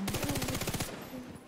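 Rapid automatic gunfire from a video game shooter, a dense burst of loud, evenly spaced shots lasting under a second, then a brief quieter tail with faint game ambience.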